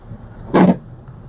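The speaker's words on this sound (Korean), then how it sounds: "올드카의 삐그덕삐그덕 하는 이 와이퍼 소리" A single short creaking scrape, loud and close, of an old 22-year-old soft-top convertible's windshield wiper on a rainy day, over a quiet hum.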